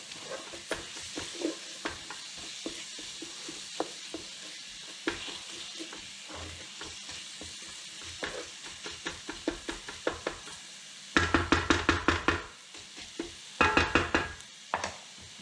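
Garlic sautés in a pan, a soft frying sizzle under repeated stirring clicks and taps, with louder bursts of rapid spoon knocks near the end.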